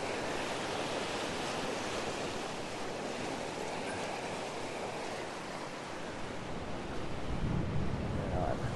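Steady wind blowing along the seashore at dusk, a broad continuous roar blended with surf that swells slightly louder near the end, with no voices.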